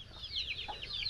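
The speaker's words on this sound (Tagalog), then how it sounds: "Ang dami sisiw." Native chickens and chicks on a small farm give a few faint, quick clucks and chirps in a brief burst, heard at low volume.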